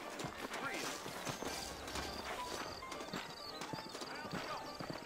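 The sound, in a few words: horses clip-clopping in the Red Dead video game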